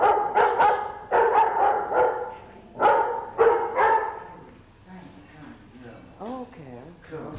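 Dogs barking in a series of loud, close barks during the first four seconds, then fading to quieter yips and whimpers while people talk.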